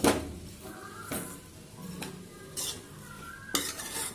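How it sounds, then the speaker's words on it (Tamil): Potato masala curry with water added is stirred in a pan: a spoon scrapes and knocks against the metal in several distinct strokes over a low simmering sizzle, with no talking. "இப்போ எல்லாத்தையும் நம்ம கிண்டி விட்டுருவோம்"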